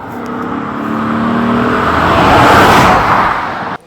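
A 1991 Chevrolet Corvette ZR1 engine running on a dyno, a loud, close roar that climbs steadily in pitch and volume as it revs, then cuts off abruptly at the end.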